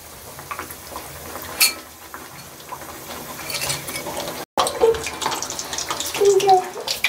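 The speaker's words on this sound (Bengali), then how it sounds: "এরপরে ভালো করে তেলে ছাকবো।" Kakra pitha, a Bengali rice-flour cake, frying one at a time in hot oil in a kadai: close, uneven sizzling hiss with occasional clinks of a utensil, briefly cut off midway.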